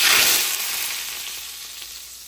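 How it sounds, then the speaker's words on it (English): Hot oil hisses and crackles sharply as it hits food, starting loud and gradually settling into a softer sizzle. "This part, you'll hear the sizzling."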